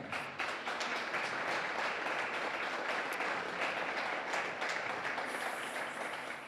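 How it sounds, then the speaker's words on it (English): Sustained applause from a crowd, steady and fairly distant, continuing throughout without speech. "Give yourselves a round of applause."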